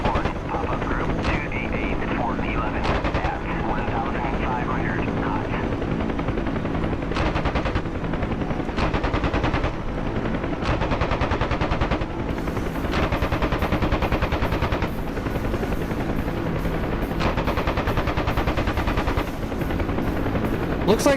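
An M60 machine gun fires in a video game, with repeated bursts of rapid shots over a constant helicopter rotor drone. Voices talk over the gunfire.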